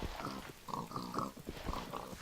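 Pigs in Minecraft give a quick series of short, nasal oinks and grunts, close and fairly loud, repeating in an uneven rhythm without any talk.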